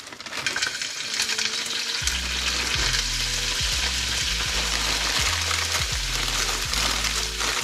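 Frozen peas and carrots frying in a hot pan, a loud continuous sizzle broken by a series of rhythmic scraping stirs, close up with no voices.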